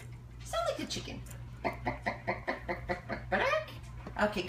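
A Senegal parrot imitates a clucking chicken indoors with a close run of rhythmic, throaty clucks and squawks, some rising and falling in pitch.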